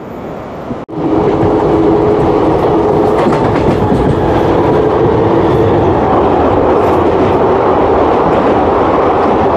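The 22387 Black Diamond Express roars along the rails in a loud, continuous rumble with a clickety-clack, heard close from on board after a brief dropout at the start.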